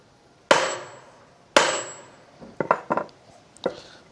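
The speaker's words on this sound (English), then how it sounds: "we're going to take a hammer and knock this loose" A hammer strikes a car u-joint to knock it loose. Two sharp metallic blows with ringing decay come first, followed by several quicker, lighter taps, all close and without talk.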